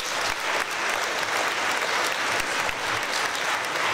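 A large crowd at the MÉTA Festival in Balatonboglár applauds the organizers, dense continuous clapping that stays loud and steady throughout.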